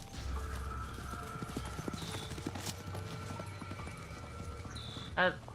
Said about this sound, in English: Is it just the one horse? Oh no, they're all galloping away,